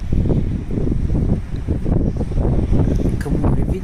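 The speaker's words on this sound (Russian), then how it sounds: "Ветер с моря." Strong cold wind gusting in off a rough winter sea on the Black Sea coast at Anapa, roaring steadily and buffeting the microphone close up, with no other sound breaking through.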